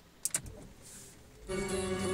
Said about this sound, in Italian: Io accendo l'auto